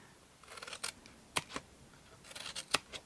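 A few crisp snips of scissors cutting paper, in short bursts with brief pauses, close and fairly quiet, no talking.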